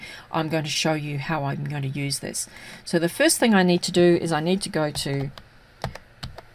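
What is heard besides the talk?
typing on an old clunky computer keyboard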